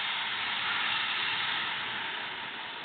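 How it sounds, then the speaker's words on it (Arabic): Water poured from a container into a pot while making sweet vermicelli, a steady continuous rushing hiss lasting a few seconds, close and even in loudness, with no talking. "بصي احط ميه"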